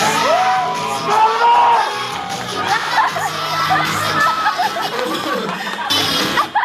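Family cheering and shouting at a grandmother's 82nd birthday cake cutting, a loud, close jumble of whoops, yells and children's shrieks with overlapping chatter throughout.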